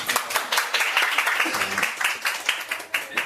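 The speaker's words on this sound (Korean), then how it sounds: "박수." A small class audience claps together for a few seconds, a brisk, fairly close patter of hands with a voice briefly heard over it.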